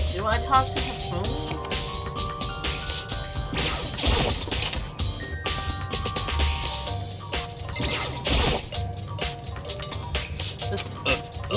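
Phone ringing inside a video game, its bell tones repeating over a busy mix of game sounds, crashes and music while a person talks over it.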